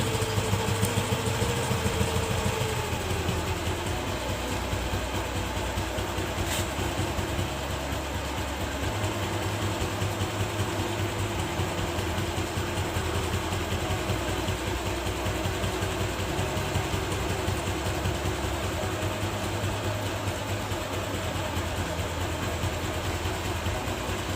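Steady engine idle while the carburetor air-fuel mixture screw is being adjusted, a continuous low rumbling drone with an even beat throughout, close and alone with no talk.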